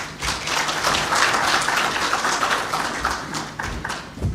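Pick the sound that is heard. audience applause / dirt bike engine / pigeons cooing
audience applause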